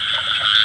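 A field frog gives a single short, loud croak close by, with no other sound around it.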